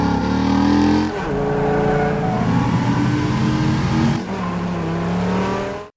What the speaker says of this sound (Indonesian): terlihat Ryan lagi mengendarai sebuah mobil balap